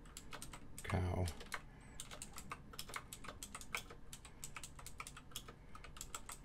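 Rapid typing on an upgraded Razer BlackWidow Chroma v2 mechanical keyboard, a quiet, close run of crisp key clicks in an uneven rhythm, with a brief heavier thump near the start.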